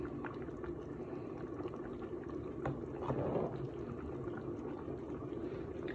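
Meat and potatoes simmer in a pot, giving a faint, steady bubbling hiss that continues without a break and stays fairly quiet, with no talking.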